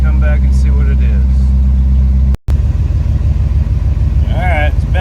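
A car engine runs at a steady, low idle close by, with a brief dropout midway and faint voices over the rumble while the engine warms up for an oil pressure test.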